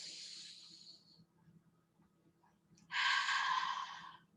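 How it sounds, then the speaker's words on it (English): Slow breaths during a breathing exercise: a soft airy exhale fades out, a near-silent pause follows, then a louder, longer rushing breath comes close to the microphone. "Inhale. Exhale. Inhale. Keep it. Exhale."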